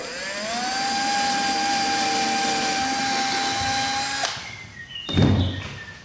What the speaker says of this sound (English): We're going to pre-drill, same 5/64 inch bit.